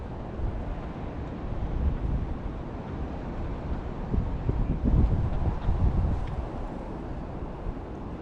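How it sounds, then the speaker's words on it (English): Wind gusts across the mic at a fishing lake during a spring match, a steady low rumbling buffet with stronger surges midway and no voices. "the wind is blowing into this corner"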